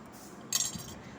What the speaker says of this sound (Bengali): আমি এখানে প্রথমে চামচে করে নিচ্ছি মেশাচ্ছি